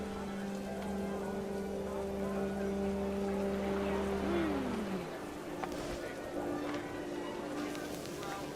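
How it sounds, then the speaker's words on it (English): Steady heavy rain pours down in the video game What Remains of Edith Finch, a dense continuous hiss running the whole time beneath sustained tones and a voice speaking over it. "The rain came down in buckets then"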